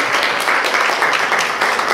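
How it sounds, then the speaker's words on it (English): A church congregation at a Sunday morning service claps together in a steady, loud wash of applause lasting a couple of seconds. "Let's give him a clap offering this morning."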